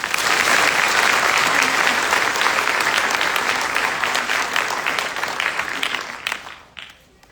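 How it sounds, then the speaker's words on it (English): Loud, sustained audience applause at a military drill sergeant graduation ceremony, dense clapping holding steady for several seconds before thinning out and fading near the end. "Please join me in a round of applause for the awardees."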